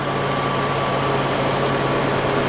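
A Lexus RC F with a 5-liter V8 idles steadily and close by, giving a continuous deep engine rumble with a broadband mechanical hum and no talking.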